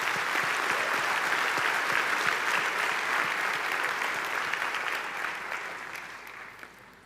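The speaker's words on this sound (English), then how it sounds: "Let's give them a big round of applause." Sustained audience applause fills a university graduation ceremony hall, a dense, steady wash of clapping from a large crowd that slowly fades toward the end.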